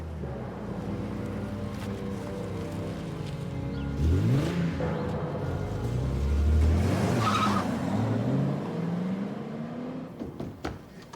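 A kidnapper's car pulling away fast, engine revving and rising in pitch with tires skidding and squealing, moving close then easing off near the end.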